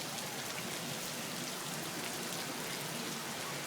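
Steady rain pours down at the Sahari Center in Jeddah, a continuous dense hiss of drops on hard surfaces with no breaks or voices.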